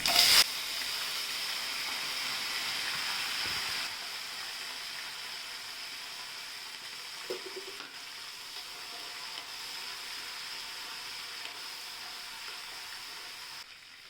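A steady hiss of red and green chillies, curry leaves and garlic frying in hot oil runs throughout, louder at the start and easing slightly, with an occasional faint clink.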